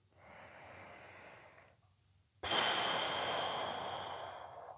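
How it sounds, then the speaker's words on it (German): A slow breath is drawn in through the nose, then let out slowly through the mouth as part of a breathing exercise for COPD shortness of breath. A soft, steady inhale follows a short pause and gives way to a louder, airy exhale, close up. "dass du durch die Nase einatmest und durch den Mund langsam ausatmest"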